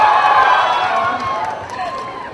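An audience applauds and cheers at a celebration event for the film Gwanghae, a loud, dense crowd roar that carries steadily and eases slightly toward the end, with voices mixed in.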